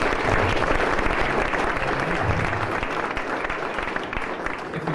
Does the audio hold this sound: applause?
yes